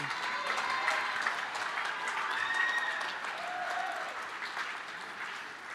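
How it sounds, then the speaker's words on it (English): Graduation ceremony audience gives a round of applause for parents and guardians, sustained even clapping throughout, with faint cheers or whoops rising briefly within it. "let's get a round of applause for your parents and guardians"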